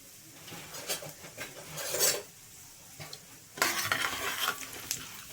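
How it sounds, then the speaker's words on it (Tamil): Mustard seeds and urad dal splutter in hot oil for a South Indian masala dosa, crackling in bursts with sharp pops and a louder flurry near the end, plus occasional utensil scrapes. "கடுகு உளுந்து பருப்பு பொரியட்டும்."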